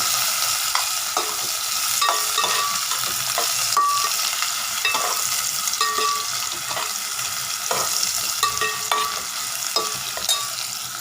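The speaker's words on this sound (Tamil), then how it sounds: "ஒரு வெங்காயம் தான் வச்சுருக்கேன், இவ்வளோ சைஸில். ஓகேங்களா. நல்லா வதங்கட்டங்க." Onion sautéing in a pan for amaranth stem curry, a loud, steady close sizzle with frequent spatula scrapes and taps against the pan.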